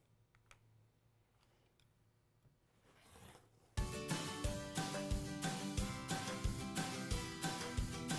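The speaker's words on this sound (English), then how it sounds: "I'm just going to get out my cutting tools, a nice rotary cutter and a nice ruler, and I'm going to trim these both down to 8 by 8 inches" A rotary cutter drawn along a ruler to trim quilt fabric blocks down to 8 by 8 inches, heard as a run of close, rhythmic crunching cuts after a few seconds of quiet handling.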